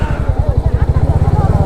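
A Royal Enfield Hunter 350 motorcycle rides slowly around a parking area near Ayodhya Dham Junction, its single-cylinder engine thumping in a loud, steady, rapid low pulse close by, with wind rushing over it.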